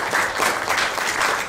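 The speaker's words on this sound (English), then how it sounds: "Give him a round of applause one more time, yeah?" An audience at a cultural showcase applauds steadily, a dense wash of clapping that holds at an even level for its whole length with no voices over it.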